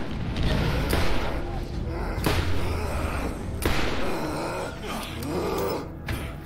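Grenades going off in the shooter game Borderlands: several heavy, booming thuds spaced a second or so apart amid busy combat noise and gasping voices.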